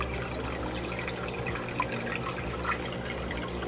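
Springtail culture and water are tipped from a container into an aquarium, making a continuous trickling, splashing pour at close range that stays steady throughout with no talk.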